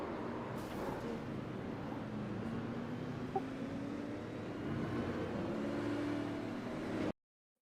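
Race cars in iRacing accelerating away after a caution, a steady droning engine roar that builds slightly as the field picks up speed, then cuts off abruptly into silence.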